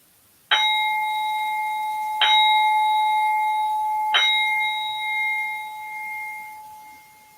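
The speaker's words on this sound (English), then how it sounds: "I'd like to invite you to listen to the sound of singing bowl" A singing bowl is struck three times, each strike ringing out clear and sustained. The final ring is left to fade slowly into silence.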